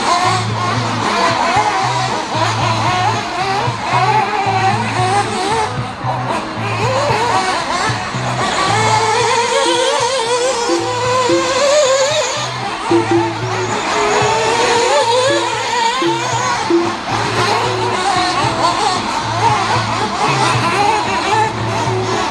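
Nitro RC cars racing around a track during a 12-minute expert main event, a dense, continuous high-pitched engine whine with rising and falling revs from several cars at once, plus repeated low pulsing and crowd or announcer sounds mixed in.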